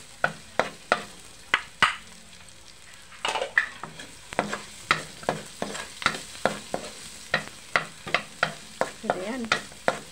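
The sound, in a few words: garlic sautéing in a pan for callos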